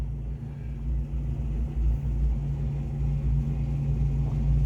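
A combine harvester at harvest time gives a deep, steady rumbling roar that builds slightly, heard from inside a closed cab with no talking.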